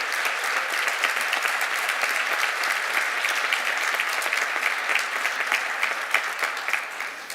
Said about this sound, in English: I ask you to extend an applause of gratitude and appreciation.